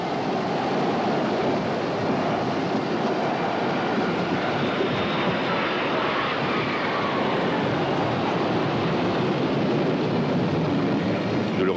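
Military jets, including Jaguar and Mirage fighters, fly over Paris during the Bastille Day parade, a loud continuous roaring rush that holds steady and close for the whole stretch.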